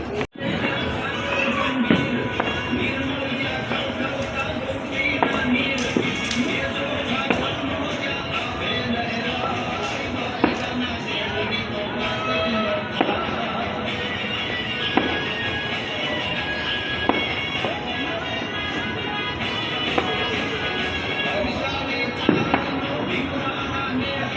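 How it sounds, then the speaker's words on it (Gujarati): Firecrackers pop and crackle continuously at a distance during Makar Sankranti in Surat, India, under a dense, noisy outdoor background, with occasional sharper bangs standing out. "આમ તો ઓલી બાજુ ફટાકડા ફૂટે છે કંઈ દેખાય નહીં તમને અવાજ આવે છે"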